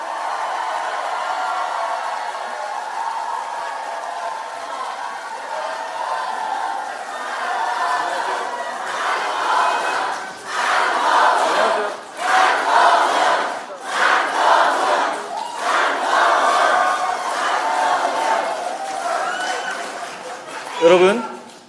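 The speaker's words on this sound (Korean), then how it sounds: "박수로 맞이해 주십시오" Audience at a People Power Party forum lecture welcoming party leader Han Dong-hoon with applause and cheering: crowd murmur swells into loud clapping and shouts in waves, with voices talking throughout.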